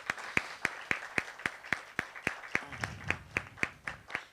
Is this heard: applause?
yes